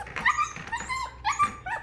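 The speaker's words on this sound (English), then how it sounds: "If you do this at night, if you're doing this to your puppy at night, he's going to cry a lot like this." A Goldendoodle puppy in its crate cries close up with repeated high whimpers and yips in short bursts.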